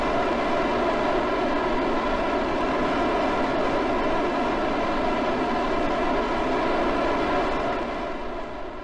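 Rocket engine throttled up in Kerbal Space Program, a loud, constant, dense roar that holds steady for several seconds before easing off slightly at the end, with no voices.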